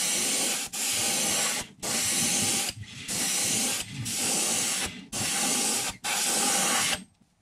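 Spaz Stix clear coat sprayed from an aerosol can onto a chrome fishing lure, heard as seven close, loud hissing bursts of about a second each, separated by brief pauses.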